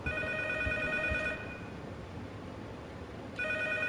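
A telephone rings in the horror video game P.T., a steady electronic ring that stops for about two seconds and then resumes, heard over a low droning ambience.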